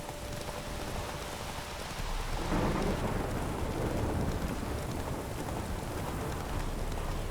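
Steady rain pours down in the video game The Witcher 3, joined by a low rumble of thunder that swells partway through and lingers under the downpour.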